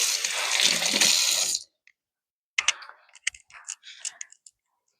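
Tap water running over hands being wetted while making sourdough bread: a steady broadband splash for about a second and a half, then silence, followed by scattered small wet clicks and drips close by.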